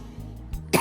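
A person who is unwell gives a short cough and a throat-clearing burst, close and fairly loud, near the end after a few faint breaths.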